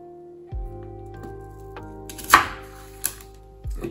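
An apple is cut with a knife on a board in a few separate sharp chops, spaced irregularly and close up, in an otherwise quiet room.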